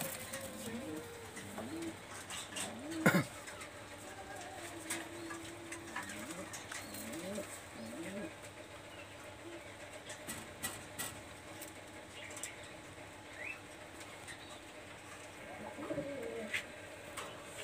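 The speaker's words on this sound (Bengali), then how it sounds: "অনেক সুন্দর একটা কবুতর।" Pakistani highflyer pigeons coo softly in repeated low, throaty phrases, with occasional clicks and flutters around them in a quiet setting.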